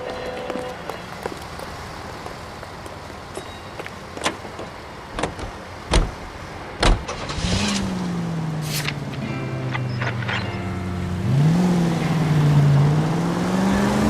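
A car driven in the 1940s Los Angeles crime game L.A. Noire: a few door thumps and clicks, then an engine starts and revs up, rising and falling under a steady hum, with brief faint talk early on.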